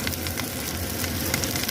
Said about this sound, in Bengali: সো এখন আমি প্যানের মধ্যে সব দিয়ে দিচ্ছি, মাশরুম ভাজা মাশরুমটা আর ভাজা চিকেনটা দিয়ে দিচ্ছি সবচেয়ে প্রথম।